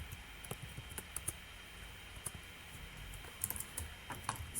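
Typing on a computer keyboard, a quiet stream of scattered light key clicks in irregular bursts over a steady background hiss, with no talking.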